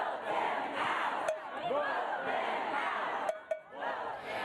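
Several thousand Kentucky educators and supporters protesting inside the state Capitol make a loud, dense roar of massed shouting and cheering that echoes off the walls, with a few sharp clinks and bangs cutting through.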